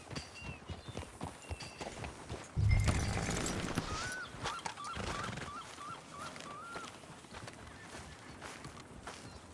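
Horse hooves clip-clop in the Red Dead Redemption 2 video game, a steady rhythmic patter that jumps louder partway through, with faint chirping calls and other outdoor game sounds around it.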